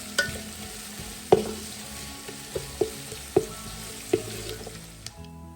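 Onions fry in a pan with a low continuous sizzle, broken by about half a dozen sharp clinks of a spoon stirring against the pan, close by and with no voices.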